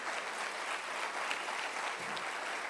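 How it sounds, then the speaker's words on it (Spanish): A church congregation claps together in a sustained burst of applause during a worship service, dense and steady for its full length with no voices standing out. "Le puedes dar un fuerte aplauso al Señor Jesús"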